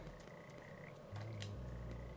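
Frogs croaking in the video game Papo & Yo, a few short low croaks, faint and alone with no talk.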